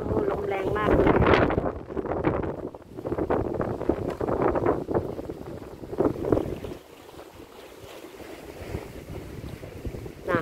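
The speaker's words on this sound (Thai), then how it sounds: "โอ้ลมแรงมากเลย" Strong seaside wind at Aberdeen, Hong Kong, buffets the microphone in loud, gusty rumbles that rise and fall, with someone talking now and then over it.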